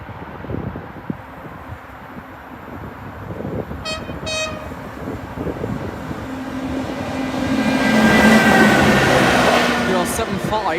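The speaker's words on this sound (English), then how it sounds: "Next we've got a clunky piece of machinery known as a tamper." A railway track tamper machine rolls past a level crossing, a clunky rumbling mechanical noise building to a louder close pass near the end, with a brief horn-like toot early on and a faint voice in the background.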